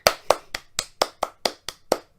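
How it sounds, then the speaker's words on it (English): One person claps about nine times, in sharp, close, evenly spaced claps with short gaps and no voices. "Round of applause for Crypt King."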